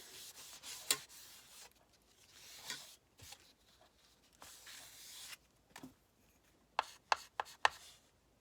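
A small eraser rubs numbers off paper in soft, quiet scrubbing strokes close by, with a few sharper taps and scratches near the end.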